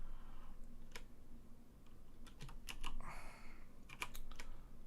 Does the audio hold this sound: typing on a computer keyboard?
yes